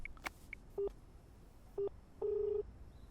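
Telephone keypad tones from a number being dialed: three short beeps followed by a longer one, clear and moderately loud over a quiet, faintly noisy room with no talking.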